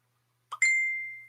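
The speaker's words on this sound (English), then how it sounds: "I didn't silence my phone" A phone notification chime goes off indoors during a podcast recording, a short soft blip followed by a clear sustained ding that rings out and slowly decays in an otherwise quiet room.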